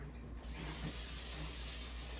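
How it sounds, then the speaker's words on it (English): A short burst of cooking spray onto parchment paper hisses steadily for about two seconds after a brief quiet moment, close and fairly loud. "You take some cooking spray,"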